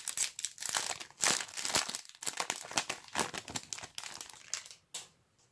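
Yu-Gi-Oh booster pack wrappers from an Ombre au Walhalla display being torn open and crumpled, a dense run of crisp, close crinkling bursts with brief pauses, loudest early and tapering off near the end.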